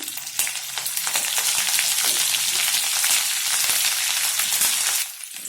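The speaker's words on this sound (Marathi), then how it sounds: "याच्यात आपण आता कढीपत्ता टाकून घेऊया" Curry leaves crackle and sizzle loudly in hot oil with ginger for a corn kees breakfast, a dense continuous spitting hiss close by that drops away near the end, no voices.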